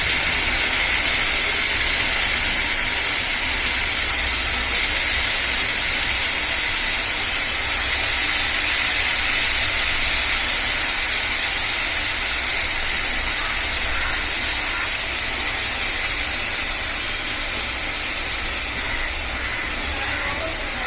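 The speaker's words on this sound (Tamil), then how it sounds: "கொதிக்குது." Steady broadband hiss of water at a rolling boil in a cooking pot, continuous and close, with faint bubbling texture and no talk.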